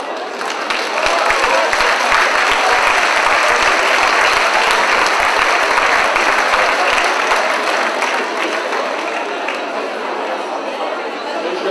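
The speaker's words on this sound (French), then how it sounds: "Je vous demande un chaud applaudissement." An outdoor crowd at a centenary celebration on a town square claps in sustained, dense applause that swells quickly and holds loud and steady for several seconds before easing slightly, with faint chatter mixed underneath.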